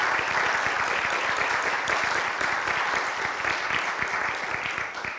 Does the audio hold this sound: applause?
yes